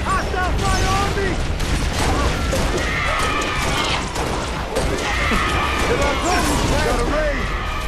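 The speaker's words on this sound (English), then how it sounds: "Hostile fire on me!" Gunfire in Halo Reach rages in a loud, continuous battle: rattling automatic fire, impacts and crashes, with voices heard amid the combat.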